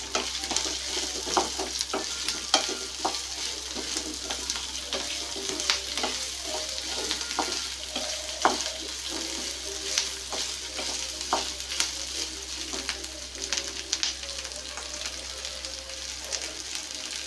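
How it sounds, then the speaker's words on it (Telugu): Ivy gourd and groundnuts fry on a medium flame, a steady crackling sizzle with scraping stir strokes throughout, close and continuous with no voices. "సో ఇవన్నీ కూడా కొంచెం రంగు మారేంత వరకు మనం వేయించుకుందాం"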